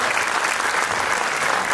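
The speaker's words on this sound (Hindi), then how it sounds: "एक बार पुनः इनके लिए जरूर तालियां जरूर" An audience at a stage play breaks into dense, sustained applause that stays loud and steady throughout, with no distinct voices.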